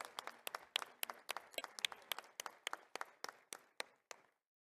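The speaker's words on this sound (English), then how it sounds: "Let's have a big round of applause." A conference audience gives a sparse round of applause for ICAEW president Julia Penny, a dozen or so distinct claps in an even rhythm that stop abruptly, leaving silence.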